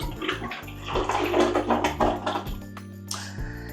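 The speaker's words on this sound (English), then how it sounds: "I would say that it's an above average flush." A toilet in an MGM Grand hotel room in Las Vegas flushes loudly and close by, a rushing, gurgling swirl of water that surges in pulses and tapers off near the end, with no talking.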